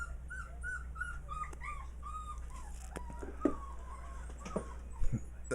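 Dogs indoors in a house, with short whining, yelping squeaks scattered over a steady low hum, fairly close but not loud, plus a few soft knocks.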